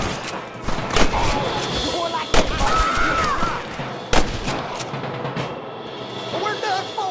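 Gunfire in the Red Dead Redemption video game: scattered sharp shots and volleys crack over a busy battle din, with a voice shouting between the shots.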